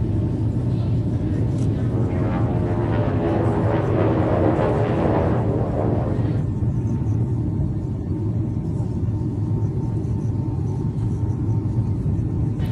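A steady, loud airplane engine roar and rumble heard from inside the cabin, with a brighter whirring layer that drops away partway through, leaving the low drone.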